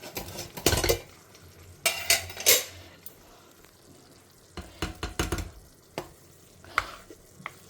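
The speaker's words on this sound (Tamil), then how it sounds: "நான் இதை கொஞ்சம் அப்படியே மசிச்சுக்கிறேன்" Cooked rice for bisibele bath is mashed in a pot, giving a few scraping, stirring clatters in irregular bursts close by, with quiet pauses between.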